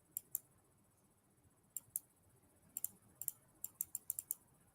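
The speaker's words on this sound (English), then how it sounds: "I'm clicking." Faint, sharp clicks of a computer mouse come in small clusters: a pair at the start, then after a pause a quicker run of taps, with no talk over them.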